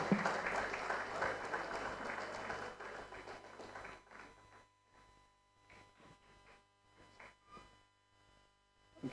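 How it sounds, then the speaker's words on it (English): Audience applause at a design sprint showcase on stage, dense clapping for about three seconds that thins into scattered claps and quieter room noise over a steady low hum. "Please, a round of applause for them"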